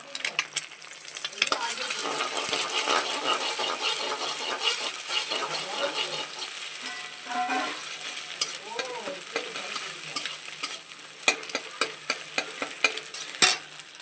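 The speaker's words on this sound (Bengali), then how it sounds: "একটা ডিম ফাটিয়ে দিয়েছি ডিমটাকে বুনো বুনো করে ভাজবো" An egg being scrambled in a kadai sizzles in hot oil as a utensil scrapes and clinks against the pan in irregular bursts, with brief faint voices in the background.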